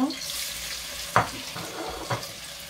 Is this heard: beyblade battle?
no